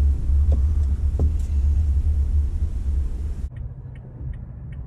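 A 2021 Toyota Tacoma TRD Off Road Double Cab rolls out of a parking lot with a steady low engine rumble and road noise, a few faint ticks, then the sound cuts to a quieter cabin hum near the end.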